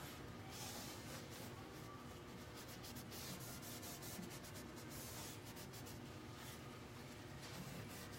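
Brush rubbing Annie Sloan black wax to soften it on a painted surface, a steady dry scratchy swishing that continues close up throughout with no talk.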